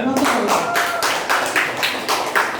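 An audience at a Quran quiz competition claps in a series of sharp, rhythmic bursts, close and loud, with a voice speaking briefly at the start.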